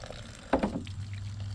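Water splashes and pours briefly while dyed fly tying hair is rinsed to wash out excess dye, a short close burst of liquid followed by a low running trickle.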